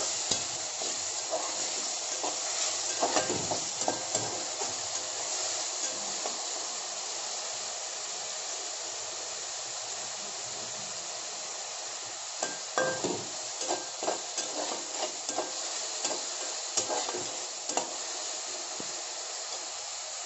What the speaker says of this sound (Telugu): ఇప్పుడు ఇందులో మనం టమాటాలు వేసుకుందాం. పచ్చి వాసన పోయే వరకు వేయించుకుందాం.